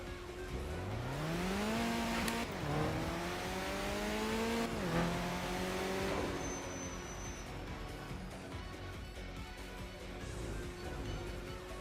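A turbocharged car in a racing video game drives slowly under light throttle, its engine note rising through several gear changes with falling pitch at each shift, then settling into a steady droning hum.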